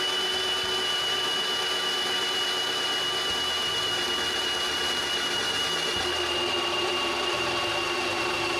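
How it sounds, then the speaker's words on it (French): A drill boring new mounting holes in metal for a replacement compressor motor, a steady whining tone running alone and close throughout. "je marque les endroits où je dois faire les nouveaux trous pour le fixer en place et je les perce"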